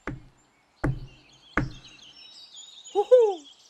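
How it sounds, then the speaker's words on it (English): Three firm knocks land on a wooden door, evenly spaced about a second apart, followed by a short chirping bird-like call in a storybook forest setting. "There they saw a beautiful wooden door. They knocked 3 times."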